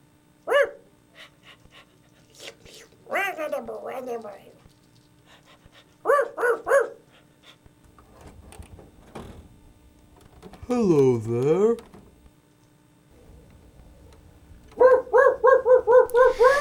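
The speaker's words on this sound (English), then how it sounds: "the rich Fuzzle's son came home with a new pet. Incredible doggy." Cartoon dog barking in short bursts and panting rhythmically, loud and close, alternating with spoken narration and a brief greeting.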